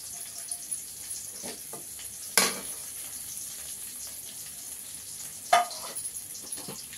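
Okra frying in a pan gives a steady, quiet sizzle that runs the whole time, broken by two sharper stirring scrapes or spatters and a few faint clinks, with no one talking.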